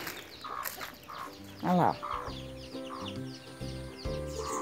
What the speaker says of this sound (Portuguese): Aí as minhas galinhas.